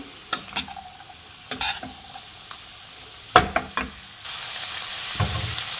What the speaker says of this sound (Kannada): ಅರಿಶಿನದ ಪುಡಿ ಹಾಕಿದ್ಮೇಲೆ ಫ್ರೆಂಡ್ಸ್ ನೋಡಿ, ಮಿಕ್ಸ್ ಆಗಿದೆ ಚೆನ್ನಾಗಿ